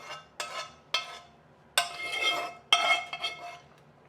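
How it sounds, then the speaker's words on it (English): A metal spoon scrapes and clinks against a serving bowl as Turkish-style chickpea casserole is ladled in, four or five sharp close knocks with soft wet scraping between them. "I'm just going to spoon in all of my nice casserole"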